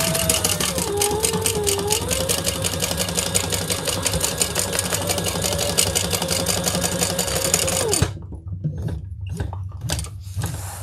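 A sewing machine runs steadily at high speed for about eight seconds while stitching binding onto a beach tote, a loud close whirring with rapid needle clatter, then stops abruptly and leaves only faint handling noises.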